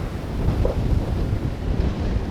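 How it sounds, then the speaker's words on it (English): Large ocean waves break along a beach in Gisborne, New Zealand, a constant washing roar beneath heavy wind gusting loudly across the microphone. "look at the size of those waves"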